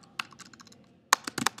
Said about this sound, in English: You just type some sort of text here.